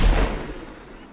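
A single gunshot rings out in an animated action series, one loud boomy report with a heavy low thump that quickly fades into a short decaying tail.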